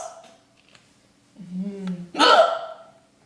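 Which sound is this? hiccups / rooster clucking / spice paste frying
hiccups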